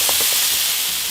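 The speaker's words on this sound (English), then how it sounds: "Add the potatoes and listen to that sizzle." Potatoes hit a very hot baking sheet fresh from the oven, giving a loud, steady, close-up sizzle with a few soft clinks as they land.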